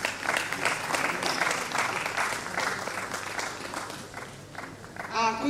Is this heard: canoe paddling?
no